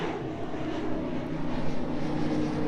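Boeing 777F freighter on approach to East Midlands Airport, its engine roar a steady, fairly loud broadband rumble that swells slightly as it nears, with no voices over it.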